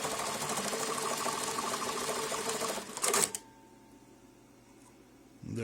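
A JACK JK-T1906 pattern tacker sewing machine stitches through three layers, running as a fast, steady mechanical whir for about three seconds. It ends in a clunk, then goes quiet before a short restart.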